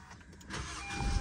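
A Honda Civic engine cranks and catches after a new battery is fitted, building from a low mechanical whir into a steady, fuller running rumble up close.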